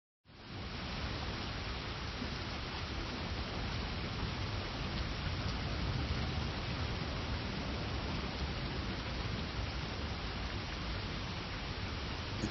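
Steady, even wash of rain in a video game, a constant dense hiss that holds at a moderate level throughout with no talk over it.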